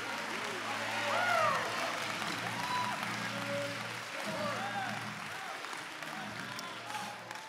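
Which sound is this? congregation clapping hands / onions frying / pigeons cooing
congregation clapping hands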